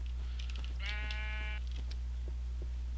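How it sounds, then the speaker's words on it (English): A sheep in the Minecraft video game gives one clear bleat lasting about a second over steady background hum, with faint clicks before and after. "I don't care about you, sheep."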